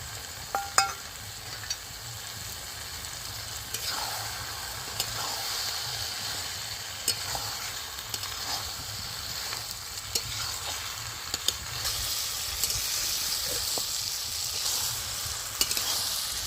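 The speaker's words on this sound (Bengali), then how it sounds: "ভেজে রাখা গেঁড়িটাও দিয়ে দিচ্ছি।" Fried pond snails stirred in a pan along with spinach and taro, giving a steady close sizzle and hiss throughout, with scattered scrapes and taps of the spoon against the pan and no speech.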